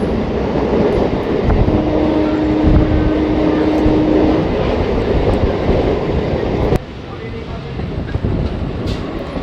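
The Azimganj–Rampurhat MEMU train runs through the dark at night, a loud, steady rumble and rattle of carriages with a brief tonal whine, dropping abruptly to a quieter roar near the end.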